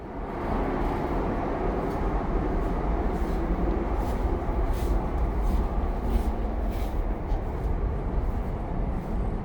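Steady low rumble of an ITX-Cheongchun double-decker passenger train heard from inside a carriage as it departs, a continuous broadband roar with faint rattles, no voices.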